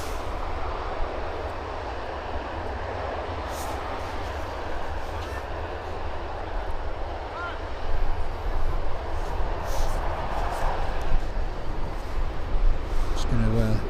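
A Boeing Dreamliner jet taxis out at Birmingham Airport, its engines giving a steady, broad whooshing rumble at moderate distance that swells louder partway through, with wind buffeting the microphone.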